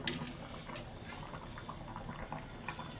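Taro stem and fish curry simmering on a low flame, with soft bubbling and gentle popping that stays faint and continuous, fairly close, and no voices.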